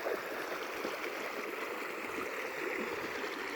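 Shallow creek water runs steadily after overnight rain, a continuous close broadband rush and gurgle with no voices over it.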